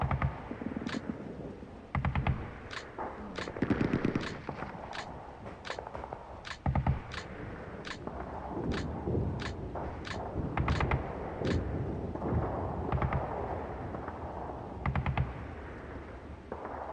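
Heavy machine gun fire in the Steel Panthers: World at War strategy game. Sharp, cracking shots repeat at a fairly regular pace, some in small clusters, at moderate loudness with no talking.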